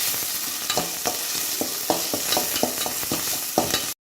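Ground pirandai (adamant creeper) paste sautéing in a pan for rasam, a steady bright sizzle with repeated scraping stirs of a spatula, close and continuous with no talking.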